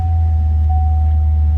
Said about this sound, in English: Cool sounding car with that 5-liter power plant